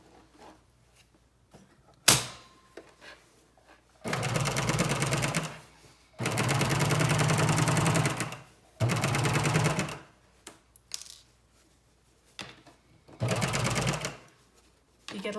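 A sewing machine stitches a zipper into fabric in several bursts of rapid stitching, stopping and restarting, with quiet pauses and small handling clicks between runs.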